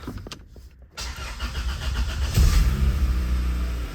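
A B16-swapped 1996 Honda Civic EK hatchback cranks and catches after a brief quiet pause, then settles into a loud, steady idle close by.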